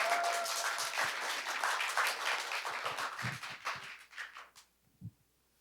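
Applause for a high school principal being welcomed onstage at a youth arts event: a crowd claps steadily, then the clapping thins out and fades to a few last scattered claps.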